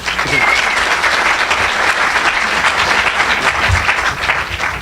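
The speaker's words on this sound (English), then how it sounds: "So I want everyone to give him a round of applause" A round of applause for a keynote speaker at a 100State event, dense sustained clapping from an audience that fills the whole stretch at a steady loud level.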